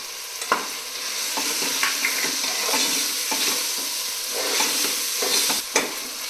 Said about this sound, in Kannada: ತರಕಾರಿ ಹಾಕಿದ್ಮೇಲೆ 2 ನಿಮಿಷ ಫ್ರೈ ಮಾಡಬೇಕು.